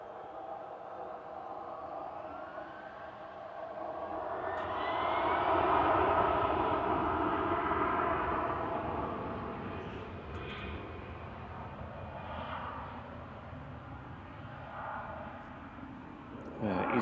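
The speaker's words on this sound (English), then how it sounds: "EasyJet rolling in the background off to Amsterdam" Distant jet rumble from an EasyJet airliner on its take-off roll at Manchester Airport, swelling briefly then fading to a low, faint drone in the background.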